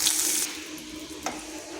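Whole spices go into hot oil: panch phoron, a bay leaf, cinnamon pieces, cardamom and a dried chilli. A loud bright crackling sizzle at the start quickly settles into a softer steady fry, with a small clink partway through.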